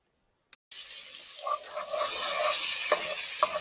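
Onion, garlic and Scotch bonnet pepper hit hot oil in a pot for Jamaican seasoned rice, erupting into a close, steady crackling sizzle after a brief clink, with occasional stirring clatter.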